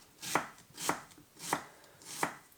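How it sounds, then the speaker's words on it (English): A knife slices finely through an onion in four evenly spaced, crisp cuts about two-thirds of a second apart, close and clear with nothing else heard. "So we're just cutting as finely as we can"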